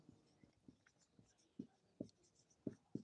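Chalk or a marker writes on a board during a maths lecture, producing soft, irregular taps and scratches of strokes, faint and close, with no voices.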